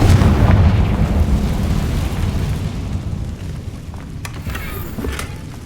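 A Confringo fire-blast spell explodes in the Hogwarts Legacy video game, a loud, dense rumbling boom that opens at full force and slowly thins into a lingering roar with faint crackles.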